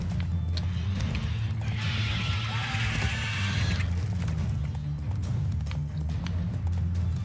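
Horse hoofbeats from a galloping mount during horseback combat in The Witcher 3, a steady clip-clop rhythm running throughout under continuous game music and effects, with a brief burst of combat noise in the middle.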